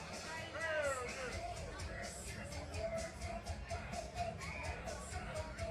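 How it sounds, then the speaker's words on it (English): Rowdy crowd noise at a Muay Thai fight event, continuous cheering and chatter from many people around a cage, with shouts and whistles rising above the steady din. "Crowd's pretty rowdy here for David West as well."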